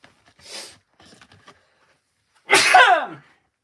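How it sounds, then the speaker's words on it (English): A single loud, sharp sneeze bursts out after a few faint rustles and clicks, close to the listener. "Sneeze."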